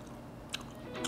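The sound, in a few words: biting and chewing crispy thin cheese pork cutlet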